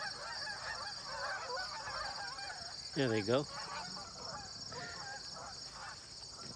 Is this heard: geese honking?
yes